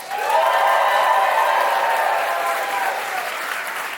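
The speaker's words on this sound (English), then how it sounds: "Please make some noise if you want to hear more from Emily Walsh." A comedy club audience in New York claps and cheers for comedian Emily Walsh in one dense, sustained wave of applause that slowly fades. The crowd sounds full and close, with scattered whoops over the clapping.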